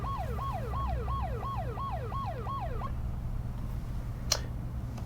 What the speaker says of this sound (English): The siren begins to sound off.